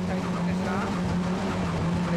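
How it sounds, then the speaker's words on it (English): A late-model Nissan S14 drift car at a D1SL drift event at Maze roars continuously at a distance with engine drone and tire noise, under an excited commentator's voice. "Seiya Sawai blazes in with his late model S14."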